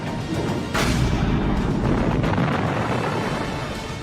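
Huge main guns of the Japanese battleship Yamato firing, a heavy deep boom that swells in and rolls on as a sustained rumbling blast, loud and close, with no voices.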